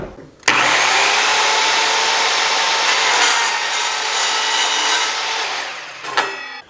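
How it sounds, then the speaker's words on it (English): An Evolution multi-material track saw slicing through 1/8 inch thick aluminum angle, a loud, harsh, continuous cutting roar that starts abruptly, holds steady for about six seconds, then winds down. "And it made a nice clean cut on that aluminum angle."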